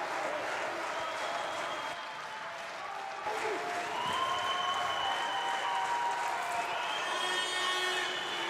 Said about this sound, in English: everybody is applauding for Ungvari